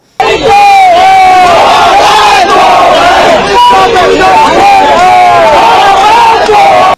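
Large crowd in Bihar hooting and yelling at reporter Anjana Om Kashyap, loud continuous chanting and whooping voices close by, sustained throughout.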